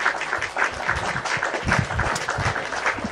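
An audience applauds a guest during a religious discussion session: dense, steady clapping from many hands, fairly close and continuous for the whole stretch, with a faint voice mixed in.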